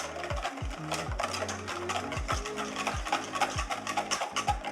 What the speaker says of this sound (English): Now we're gonna add in a teaspoon of Worcestershire sauce. We're gonna continue to mix that in there.